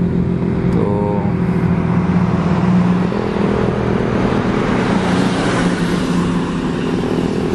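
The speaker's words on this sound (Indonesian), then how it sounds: "Ini sering mobil besar, sorry ya guys kalau ribut ya." Large vehicles rumble noisily past on a road through hilly countryside, a continuous loud engine and road roar swelling and fading over several seconds.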